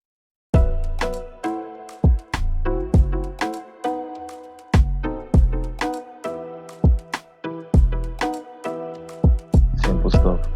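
An Afroswing beat plays loud and close, with chords, a punchy kick, a snare and a peck snapping in a bouncy syncopated groove that repeats over ten seconds.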